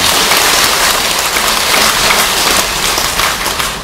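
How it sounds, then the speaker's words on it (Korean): Loud, dense applause from a congregation at a Buddhist dharma talk for a pre-death memorial ceremony, a continuous hiss of many hands close by with no voices over it. "박수를 치니까"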